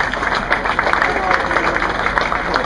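Audience applause for an angler at a bass fishing pro weigh-in, a steady wash of clapping and crowd noise running throughout at close, fairly loud level, with voices mixed into the crowd.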